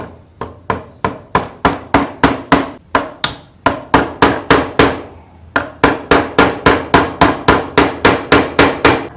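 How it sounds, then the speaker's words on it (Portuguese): A hammer striking the far end of a dowel jig marking point set into wood, with rapid, evenly spaced loud metallic blows in two long runs separated by a short pause, close and without any talk. "vamos bater com o martelo na outra ponta"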